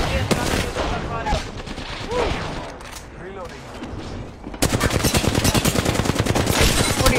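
Gunfire in the video game PUBG, bursts of automatic rifle shots, then a dense continuous rapid volley near the end, loud and close, with players talking over the action.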